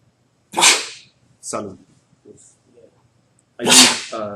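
A single sharp human sneeze bursts out in a room, followed by a short second burst and scattered quiet speech from people nearby.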